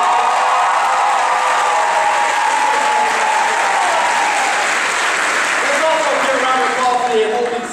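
A large commencement audience at Brown Mackie College gives a long, even round of applause for the campus president, with faint cheering and voices mixed through the continuous clapping.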